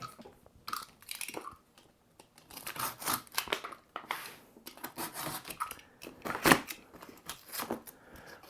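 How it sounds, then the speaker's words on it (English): Scissors or a blade crunch and snip through a cardboard firework box to cut a hole, a close, irregular series of crisp cutting and crinkling bursts with short pauses, no voices. "Then you'll have to cut a hole in the box."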